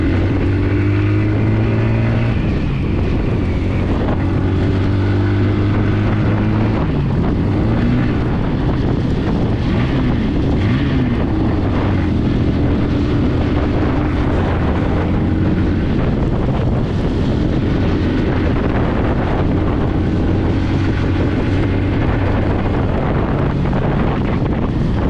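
A 2026 Bajaj Pulsar N160 motorcycle with a 2-valve engine rides through city traffic, with loud, steady engine drone, shifting revs and heavy wind buffeting across the microphone throughout.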